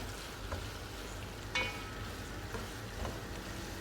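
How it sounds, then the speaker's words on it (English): Quiet, steady frying sizzle of blended fresh pepper and panla in hot oil, with a few soft clinks and stirring scrapes, no talking. "So while this is frying"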